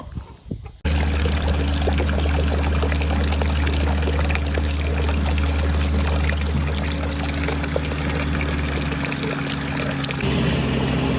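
Water runs from a hose valve on an IBC tote at an off-grid animal coop and pig area, a loud, close, steady gushing pour that starts abruptly and continues unbroken for about ten seconds.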